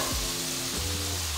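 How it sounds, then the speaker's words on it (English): Chopped onions sizzling in melted butter in a pan, a close, steady crackling hiss with a low tone shifting underneath as they are stirred. "Nice sound of the sizzle."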